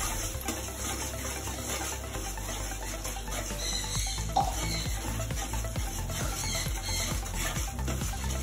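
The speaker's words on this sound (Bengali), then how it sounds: "ওর মধ্যে অল্প একটু জল দিয়ে আমি সাইড দিয়ে দিতে থাকবো আর নাড়াতে থাকবো যাতে তলায় যেন না লেগে যায়" A spoon stirs prawn curry masala in a pan as a little water is added, giving a steady low sizzle and bubbling with scraping strokes throughout, no voices.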